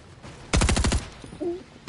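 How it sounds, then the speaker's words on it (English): Gunfire from a shotgun in a video game, a burst of rapid, loud repeated shots lasting about half a second, followed by quieter game sounds and a brief tone. "Is that a shotgun?"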